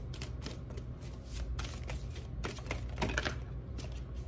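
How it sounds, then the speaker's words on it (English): Tarot cards being shuffled in a steady run of riffling, flapping bursts that carry on for about four seconds, close and fairly loud, with no one talking. "Let's get out a few more cards."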